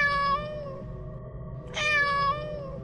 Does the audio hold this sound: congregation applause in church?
no